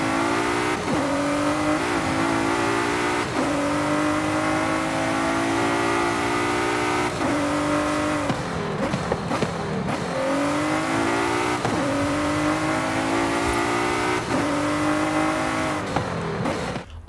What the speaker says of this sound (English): what it sounds like when you're changing gear on automatic